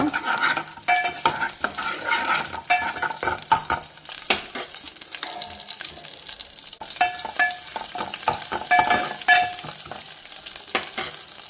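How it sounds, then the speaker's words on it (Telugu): Green chillies and crushed garlic crackle in hot tempering oil in a pan, a close busy sizzle punctuated by repeated stirring scrapes and metallic spoon taps. "ఇది పోపు కొంచెం వేగాలన్నమాట"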